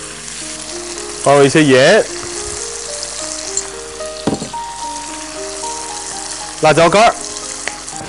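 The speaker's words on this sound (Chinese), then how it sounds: "葱放进去，百叶结放进去，继续煸炒。" Scallions and tofu knots stir-fried in a hot wok give a steady, close sizzle, while a voice speaks briefly twice over the frying.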